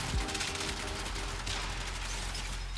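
Rapid bursts of assault rifle fire in the Warframe game, loud and dense, rattling continuously across the clip with no speech over it.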